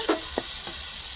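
Chicken for chicken kosha sizzles in hot oil, a quiet steady frying hiss broken by a few short stirring scrapes, close by and with no talking.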